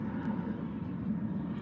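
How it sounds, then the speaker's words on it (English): A steady low roar of an airplane passing overhead, a continuous rumbling drone that stays even and fairly loud throughout. "sorry, the airplane"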